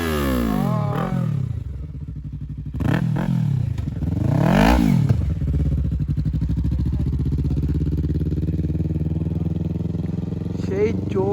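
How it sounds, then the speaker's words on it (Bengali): A Yamaha R3 sport motorcycle engine revs sharply in a few quick bursts, then settles into a steady loud idle, heard close up with someone talking over it. "সুপার বাইকটা হলো R3 ইয়ামাহা তো চলো ওর সাউন্ডটা আমি আপনাদেরকে শোনাই"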